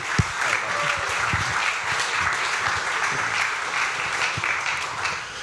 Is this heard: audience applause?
yes